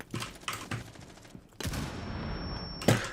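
Gunfire in a first-person shooter game: short rapid bursts of automatic fire at the start, a pause, then a longer sustained burst with a high electronic tone and a final sharp shot, loud and close.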